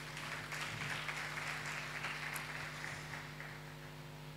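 Church congregation applauding, a steady, faint wash of clapping that continues unbroken throughout over a low background hum.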